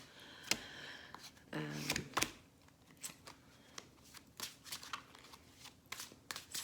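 Tarot cards being shuffled in quick riffling bursts with a few soft slaps, close by, with sporadic quiet speech in the background.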